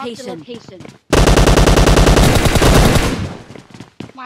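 Loud, sustained automatic gunfire in a PUBG-style mobile shooter erupts after a moment of talk and keeps rattling in a fast, even stream for about two seconds before tapering off. Voices speak before the shots begin.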